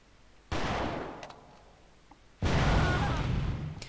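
Gunfire in Call of Duty: World at War on the Nintendo DS, two bursts of compressed shots with the second louder and more sustained, quiet gaps in between.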